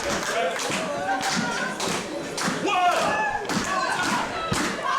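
Crowd at an SWW professional wrestling show clapping and cheering after a big lariat, a dense, steady wash of applause and crowd noise with occasional thuds from the ring and commentary over it.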